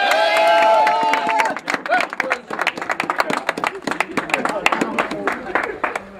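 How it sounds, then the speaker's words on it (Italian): An audience at a Juventus club gathering in Mazara applauds Juventus vice-president Beppe Marotta: a voice speaks briefly at the start, then sustained, fairly close clapping carries on for several seconds. "un applauso al direttore."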